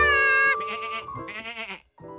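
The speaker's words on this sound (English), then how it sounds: "George figured he'd pass the time watching the sheep eat grass" Cartoon sheep bleat on a grassy farm in a children's animated show, several loud wavering baas in close succession, close up and clear with no talk.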